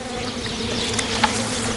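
A steady, dense buzzing of many bees close by at a hive, continuous and fairly loud, with no voices.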